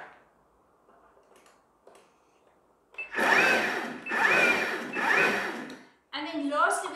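A food processor pulses cheesecake base ingredients in three loud, even bursts of whirring and clattering, each about a second long with short gaps between. Quieter noises come before them and another burst follows.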